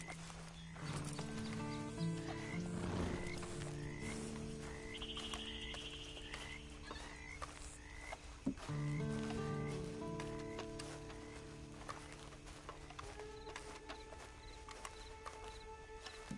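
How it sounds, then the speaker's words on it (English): Horse hooves clip-clop steadily in Red Dead Online, the in-game footfalls sitting beneath layered music and ambient game sound for the whole stretch. "And you better get on this horse."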